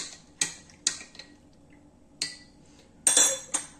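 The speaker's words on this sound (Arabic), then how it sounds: "غادي نحرك المكونات مزيان" A spoon clinks against a glass while stirring a ginger and honey hot drink, several sharp separate taps at irregular intervals with quiet gaps between, close and clear.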